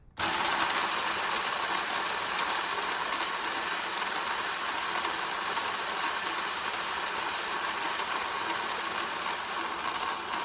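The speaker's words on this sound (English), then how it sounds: "then weighed 18 grams of beans for each and started grinding at the same time" Two HiBREW G5 coffee grinders run at once, grinding 18 grams each of espresso beans at a fine espresso setting: a steady, loud, continuous whirring drone that starts abruptly and holds without a break.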